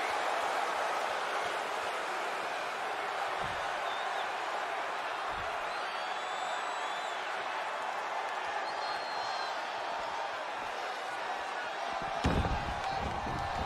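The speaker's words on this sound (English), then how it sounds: "The sound of this crowd is deafening" Wrestling arena crowd roaring loudly, a dense continuous wash of cheering voices from a large audience, steady throughout with a few heavy slams beneath it.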